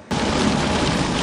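Heavy rain pours down outside, a steady, dense wash of noise that starts abruptly and continues at an even level with no talking.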